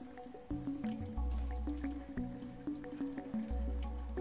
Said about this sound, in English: Coffee machine.